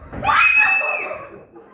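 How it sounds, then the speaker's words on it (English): A single loud scream rings out on stage during a live play, rising sharply and then trailing off into a shaky, laugh-like tail. "I heard a scream."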